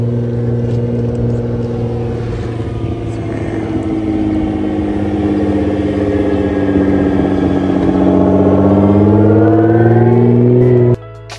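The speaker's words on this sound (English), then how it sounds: "GTR, Godzilla pulling up." A Nissan GT-R rolls up close with a steady, loud engine drone that slowly rises in pitch and intensity before cutting off abruptly near the end.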